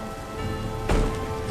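Steady rain pours over a battlefield near Waterloo, a dense continuous hiss with a sharp louder burst partway through like a gust or thunder crack, heard alone without voices.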